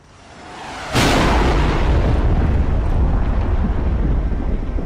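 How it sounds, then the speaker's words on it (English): A sudden loud boom bursts out after a rising rumble, then roars on as a sustained, heavy blast of noise. "I just heard an explosion."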